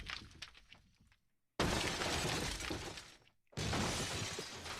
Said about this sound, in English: A deafening crash echoed from the corridor.